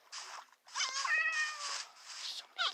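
Several cats in Minecraft beta meow in a series of clear, close calls, some overlapping, separated by short pauses.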